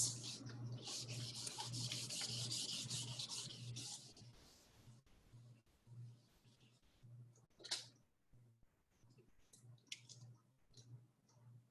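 An eraser rubbing briskly across a paper page in quick, scratchy strokes for about four seconds, then quieter scattered rubs and light taps with a few pauses between them.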